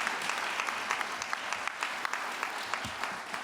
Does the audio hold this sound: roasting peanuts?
no